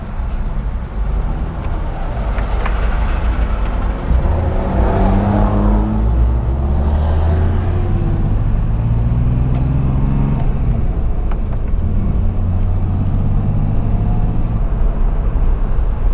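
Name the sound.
old car with 63-year-old motor driving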